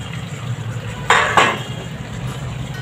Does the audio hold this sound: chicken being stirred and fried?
yes